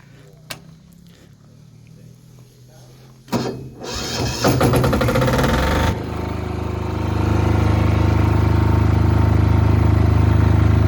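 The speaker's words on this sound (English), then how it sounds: "So typical of any generator of this size, it's not silent, but it's not too bad." An Excel Power XLD9500Q portable 6.5kW single-phase diesel generator starting up, with a few clicks, then a sharp crank and catch, rising into a loud, steady, close droning rumble that settles into a continuous run.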